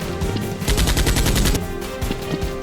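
Nerf guns fire during a staged Nerf war chase, rapid rattling bursts like automatic gunfire over loud busy action noise, with rhythmic volleys in the middle.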